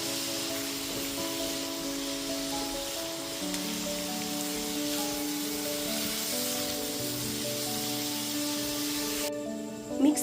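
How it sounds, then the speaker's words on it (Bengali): Sliced onions frying with salt in a pan for mutton curry, a soft continuous sizzle under gentle background music, fairly quiet and steady. "লবণটা দিয়ে পেঁয়াজের সাথে খুব ভালো মতো মিশিয়ে তারপর পেঁয়াজটাকে লাল করে ভেজে নেব।"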